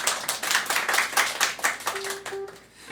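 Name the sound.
people clapping hands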